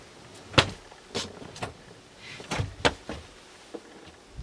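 Several short sliding thumps and clacks come in irregular succession, like drawers being pulled open and pushed shut nearby inside a Sprinter 4x4 camper van, with quiet gaps between.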